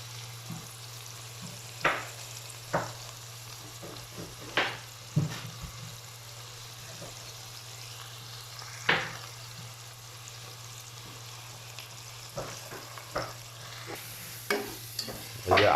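Chicken pieces fry with ginger in a pan during a chicken roast korma recipe, a soft continuous sizzle broken by repeated sharp scrapes and clacks of a spatula stirring, with a low steady hum beneath.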